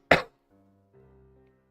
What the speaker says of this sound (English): I could have coughed away from the microphone